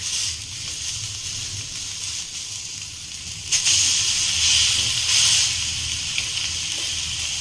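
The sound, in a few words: mint fish frying in oil on an iron tawa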